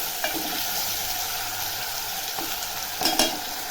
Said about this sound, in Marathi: आता हे वाटण टाकते वाटण बघा चांगलं असं परतून घ्यायचं